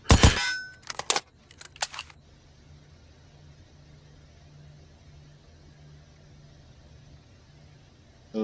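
SCAR-H rifle fires a short burst of sharp, loud cracks at an outdoor range, clustered in the first two seconds. A quiet low hum follows.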